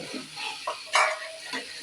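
Food stir-frying in a pan, with short bursts of sizzle and scraping strokes of a spatula against the metal, close and moderately loud, no speech.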